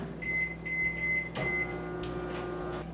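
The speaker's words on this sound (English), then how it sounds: "Then you're going to put the rice in the microwave." A microwave oven heating rice hums steadily, its door thumping shut partway through before the low drone carries on.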